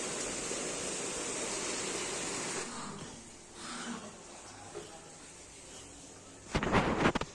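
Heavy rain pours down over waterlogged streets as a steady roaring hiss, then eases to a softer patter before a brief loud rustling burst near the end.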